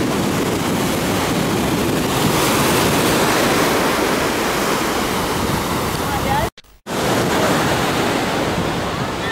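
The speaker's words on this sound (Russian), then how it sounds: "волны как шумят" Loud, continuous roar of sea waves breaking by a pier at an Alanya beach, with gusty wind buffeting the microphone, briefly cutting out before the rushing waves return.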